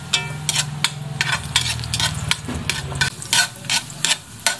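Ginger browning in a hot pan while being stirred, with repeated scraping strokes of the utensil over a low, steady sizzle and hum; close, moderately loud, no talking.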